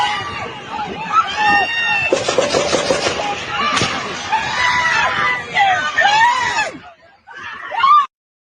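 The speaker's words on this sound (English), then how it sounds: "And a lot of screaming" Recorded footage of a shooting at a crowded event: many people scream loudly and overlapping for several seconds amid frantic crowd noise, then a brief pause and one last shriek.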